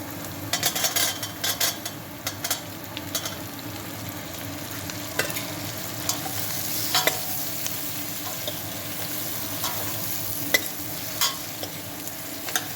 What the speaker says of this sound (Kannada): ಇದು ಹೀರೆಕಾಯಿ ಸ್ವಲ್ಪ ಫ್ರೈ ಆಗೋ ತನಕ ಇದೇ ರೀತಿ ಕೈ ಆಡಿಸ್ತಾ ಇರಬೇಕು.